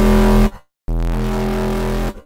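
A thick, buzzing Serum synth bass note with gritty distortion from the DAW's own distortion effect, played loud in two sustained bursts separated by a short gap.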